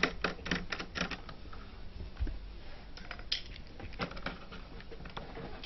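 Hard drive cable being disconnected from an HP 625 laptop motherboard, a run of small plastic clicks and taps in uneven bursts, close and fairly quiet, with faint handling noise between them.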